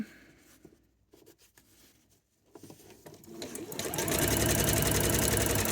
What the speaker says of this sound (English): I'm going to sew up just to where the end of my t-shirt is underneath the binding